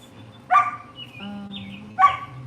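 Two beagles barking indoors, with two sharp, loud barks about a second and a half apart and a softer whine or yip between them.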